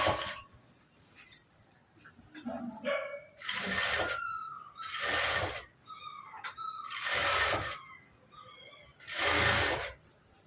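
A sewing machine stitches the side seam of a blouse in several loud bursts of rapid running, each a second or so long, separated by quieter pauses with small handling clicks and rustles.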